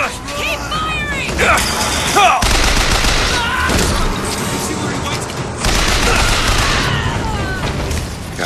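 Dense, loud gunfire and explosions fill a Bioshock Infinite battle, overlapping bursts and booms with little pause, with a voice shouting over the din.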